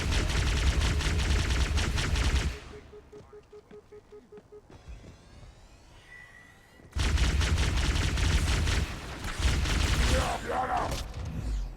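A plasma pistol in the shooter Destiny fires in long, rapid, crackling bursts, loud and continuous, with a quieter lull between two barrages.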